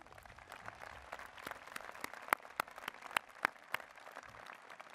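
Scattered, sparse clapping from an audience at a university presidential inauguration, individual sharp claps standing out over a quiet room, some close and louder, the rest faint.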